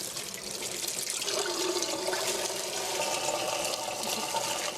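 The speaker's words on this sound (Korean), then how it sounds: "이런 거 시커먼 거 이런 거 깨끗이 잘 씻어주시고요" Running tap water streams steadily over a whole chicken being rinsed in a sink, a continuous close splashing wash that thickens slightly after the first second as the bird is moved under the flow.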